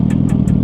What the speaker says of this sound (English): Listen to that bike, bro.